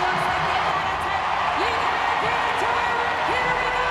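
A CrossFit Games crowd cheers on a woman attempting a heavy clean lift, a steady loud wash of arena noise with shouts and whoops, under a commentator's voice.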